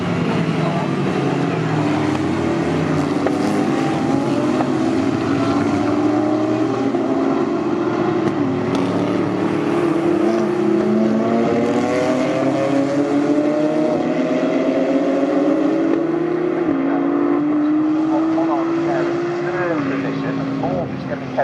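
GT race cars, including a Barwell Lamborghini, roar past on the Snetterton circuit at close range, engine notes rising and falling in repeated gear-change sweeps under continuous race commentary.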